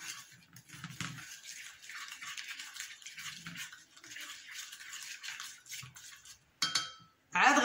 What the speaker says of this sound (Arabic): غدا نخلط هاد المكونات حتى يندمجوا مع بعضياتهم